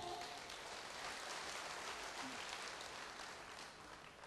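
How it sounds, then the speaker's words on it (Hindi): A crowd at a success-story event for an LIC advisor in Pune claps steadily, a quiet, distant-sounding wash of applause that tapers slightly toward the end. "एक बार ज़ोरदार तालियां बजाइए आप सब"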